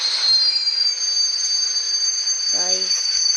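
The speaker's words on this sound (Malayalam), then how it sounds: "ട്രെയിൻ വന്നുണ്ട്" A passenger train pulls into a station platform, its wheels giving a loud, continuous high metallic squeal throughout, with a brief voice near the end.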